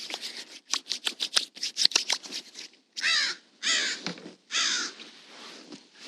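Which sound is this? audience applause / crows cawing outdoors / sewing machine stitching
crows cawing outdoors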